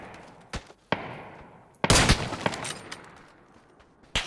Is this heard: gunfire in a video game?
yes